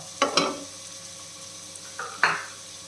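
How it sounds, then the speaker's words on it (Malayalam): Chopped large onion sautéing in a pan for prawn biryani, with a soft steady sizzle under two pairs of brief stirring scrapes, close and fairly quiet. "സവാള നല്ല രീതിയിൽ വഴണ്ട് കിട്ടണം കേട്ടോ"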